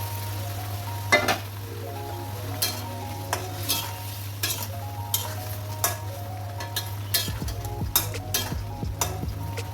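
Prawns stir-fried in a pan for chingri bhuna with turmeric, chili and coriander powder, a steady sizzle under repeated scraping and clinking stirs, close and with no speech.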